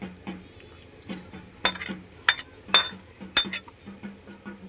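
Khichdi in a pot stirred with a metal ladle: a soft bubbling bed broken by several sharp metallic clinks and scrapes against the pot, close and irregular, with no speech.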